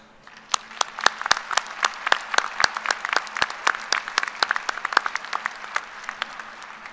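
A small group at a college commencement ceremony claps, sharp scattered hand claps building into steady applause and then thinning out, fairly close.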